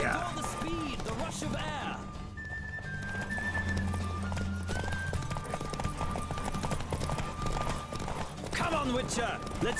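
Horse galloping in a race in The Witcher 3: Wild Hunt, rhythmic hoofbeats running under game music and voices, with a whinny near the end.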